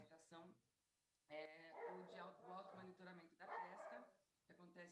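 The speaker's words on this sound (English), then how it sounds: "There's a dog barking." A dog barks and yips in the background, its excited, whimpering calls running beneath a person talking over a faint online call.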